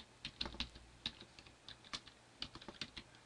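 Someone types an address into accounting software on a computer keyboard, producing a quiet, irregular run of distinct key clicks in small bursts, with no talking.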